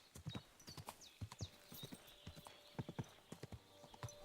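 Horse hooves clip-clopping in Kingdom Come: Deliverance II, a close, rhythmic series of sharp hoof strikes at a walking pace, with a faint whinny-like tone in the background.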